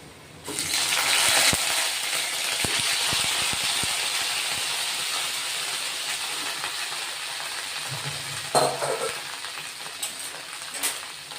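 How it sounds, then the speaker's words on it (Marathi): Washed, cut eggplant goes into hot oil with cumin seeds and bursts into a loud, steady sizzle that stays strong, with a few clinks of a utensil and a brief stir partway through. "तेल गरम झालंय, थोडेसे जिरे टाकून घेतलेत आपण आणि हे धुतलेले आहेत ना कट केलेले वांगे तेही टाकून घेऊ"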